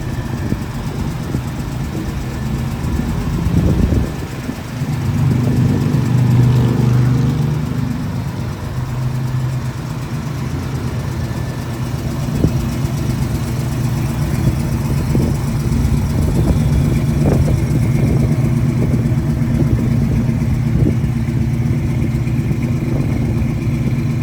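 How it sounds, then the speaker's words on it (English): A 1973 Ford Mustang Mach 1 with a 351 Cobra Jet V8 and factory four-speed idles steadily, its exhaust a deep, loud rumble with a brief rev swell early on, heard up close with no talking. "Awesome sounding exhaust."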